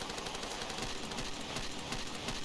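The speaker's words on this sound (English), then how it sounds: "I hear a gunfight, so she's gonna be down." Rapid gunfire rattles through a gunfight in the video game Far Cry 2, dense repeated shots forming a continuous burst at moderate volume, with no voices.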